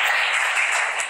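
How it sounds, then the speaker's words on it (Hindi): An audience claps to welcome guest Rajmani Mishra at a literary journalism seminar: a brief burst of dense, steady applause, loud and close, with no voices over it. "आप सब तालियों से इनका स्वागत करें।"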